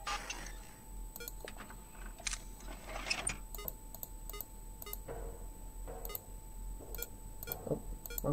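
Repeated short electronic beeps from phones in the horror game Five Nights at Candy's 2, a series of quiet, evenly spaced bleeps over a low steady hum with no talking.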